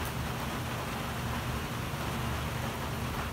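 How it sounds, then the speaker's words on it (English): Steady rain falls outside, a continuous broadband hiss with a low rumble beneath it, even and unbroken throughout, with no voices. "if that rain right there will ever stop, we're gonna go fishing"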